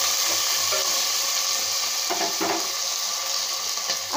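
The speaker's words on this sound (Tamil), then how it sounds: "இதை நல்லா வதக்கி விடலாங்க" Onions, tomatoes and green chillies sauté in a pan for biryani, giving a continuous bright sizzle with a few faint stirring scrapes, close and even.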